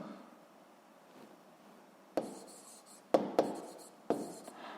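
Pen or marker writing on a surface while filling in a price table for a sixth-grade maths exercise; quiet scratching strokes with a few sharper taps, close and alone.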